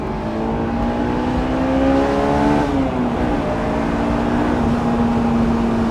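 A Honda S2000 AP1 engine winds up steadily under acceleration, its rising harmonic whine climbing loud and continuous, dipping briefly at a gear change near the middle before pulling on again with road and wind noise beneath.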